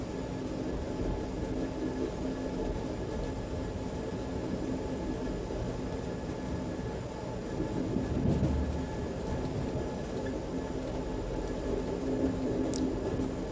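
Steady low rumble of an Amtrak train running, as heard from inside a first class cabin, with a brief louder surge partway through and no voices.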